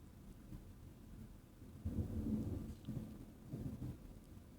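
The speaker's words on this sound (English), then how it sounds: "Let's see if you all can hear the thunder." Thunder from a storm, a deep low rumble that swells and rolls in distant waves, faint and muffled, with a soft background hiss and no voices.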